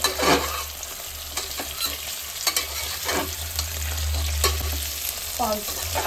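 Mixed vegetables fry in a pan for a pulao, with a steady close sizzle broken by scraping stirs and spoon clatter throughout.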